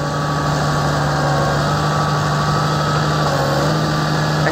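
A tractor engine idles close by in snowy cold, a low constant rumble with a faint hum running underneath for the whole stretch, no voices.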